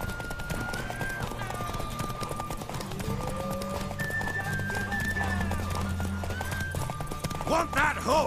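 Hooves clop steadily beneath tonal game music in The Witcher 3 on PS5, with a brief burst near the end that may be a horse's neigh; a voice is also heard.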